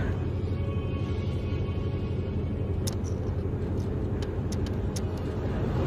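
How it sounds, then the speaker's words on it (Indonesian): Heavy car driving unsteadily, pulling to one side, gives a low continuous rumble with a few faint clicks and knocks near the end, steady and moderately quiet throughout. "Berat banget sih mobil."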